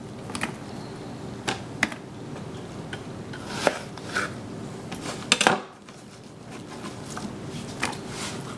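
A knife chops an onion on a cutting board in irregular, sharp taps, with a few louder thuds in the middle and a short quiet pause before the chopping resumes.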